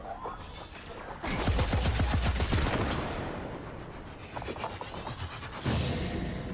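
Gunfire in a video game fight against snipers, rapid rattling bursts of shots that come in uneven waves, loud and close, with short gaps between them.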